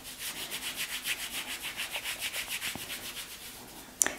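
Kinesio tape rubbed briskly onto the skin of a leg, a close, rhythmic swishing friction in quick even strokes that stops, followed by a small tap at the end.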